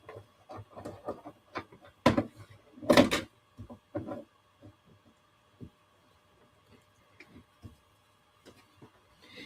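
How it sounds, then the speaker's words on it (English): A hand-cranked embossing machine rolls a card sandwich through, giving soft irregular clicks, thumps and creaks close by in a quiet room, with a couple of louder knocks near the start. "I'm going to just take this to my embossing machine here I have on the side, make my sandwich,"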